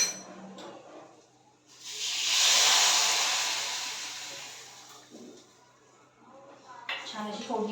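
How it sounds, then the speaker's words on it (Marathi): Hot tempering (phodni) is poured into cooked dal and lets out a loud burst of sizzling hiss that swells and then fades over a few seconds, with someone talking before and after. "ही फोडणी आहे ना मी ह्याच्यात ओतून घेते."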